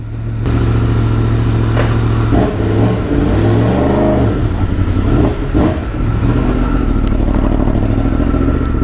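A Yamaha MT-10 motorcycle engine warming up rumbles loud and steady at close range, with several throttle blips rising and falling in pitch over the idle, with no voices.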